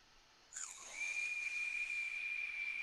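A vape RTA with its airflow cranked down gives a thin, high steady whistle that starts after a brief hiss of drawn air and holds continuously, faint and close.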